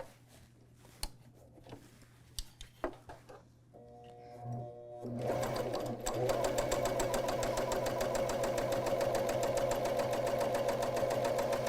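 An Elna Covermax coverstitch machine sewing a top cover hem starts after a few seconds of quiet handling clicks and then runs at a steady, fast, close mechanical whir with a rapid stitching rhythm, loud and alone.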